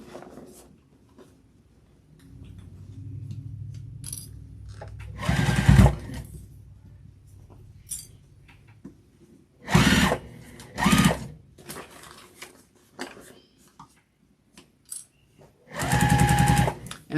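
A sewing machine stitches a vinyl and cotton tote bag in several separate loud bursts of rapid whirring, with quiet handling pauses and faint fabric rustling between runs.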